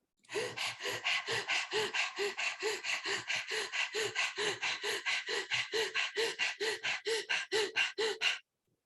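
Rapid, rhythmic panting breaths, about three per second, loud and close, a person imitating a dog's panting with tongue out in a pranayama breathing exercise, stopping abruptly at the end.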